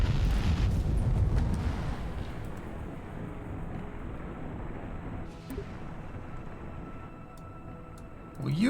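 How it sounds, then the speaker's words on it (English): A rocket vehicle blowing apart in Kerbal Space Program 2: a loud, low rumbling blast at the start that trails off into a long, quieter roar, with a fresh burst near the end. "It's gonna explode."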